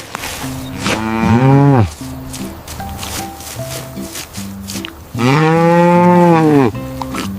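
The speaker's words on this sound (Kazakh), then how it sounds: "Сиыр қандай дыбыс шығарады?" A cow gives two long, loud, drawn-out moos, each about a second and a half, separated by a pause filled with a light melodic backing tune.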